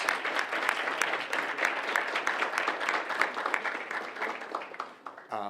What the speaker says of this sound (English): one more round of applause for everyone for this month